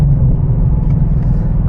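Inside a 2024 Ford Mustang Dark Horse with a six-speed manual, the engine gives a steady, deep, loud rumble while driving, with no talk over it.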